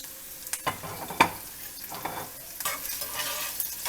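Sliced turmeric root fries in a pan with chopped ginger, giving a soft steady sizzle broken by a few louder scraping stirs of a utensil against the pan, with no voices.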